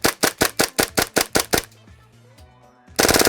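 Airsoft gas blowback gun firing about nine sharp, evenly spaced shots in quick succession, each a crisp clack close up, then a brief pause and another burst of rapid firing.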